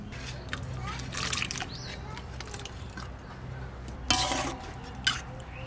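Salted hilsa fish is rinsed in water, with close splashes and sloshing as the pieces are swirled and handled, while a person talks throughout.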